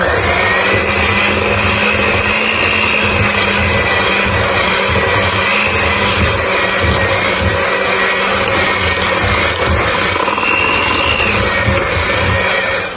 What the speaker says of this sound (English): I'm also going to mix this very lightly, but making sure all the flour has been mixed in